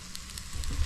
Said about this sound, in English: Oh, she's sizzling. Give you guys to take a look at this yummy ribeye.